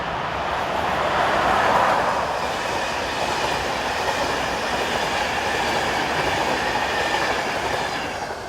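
Locomotive 380016 hauls a Budapest to Brno passenger train past at steady speed, a continuous loud rolling rumble with faint wheel clatter that swells slightly near the start and fades a little at the end.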